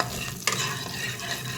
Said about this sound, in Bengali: দেখতেই পাচ্ছ কড়াইতে কালো জিরা ফোড়ন দিয়ে দিয়েছি।